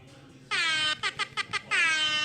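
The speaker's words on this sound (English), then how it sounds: "Well, I keep an air horn" A loud, close air horn blares in a long blast, then four short rapid toots, then another long blast.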